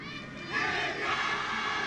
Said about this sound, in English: And the crowd has been involved right throughout this fixture.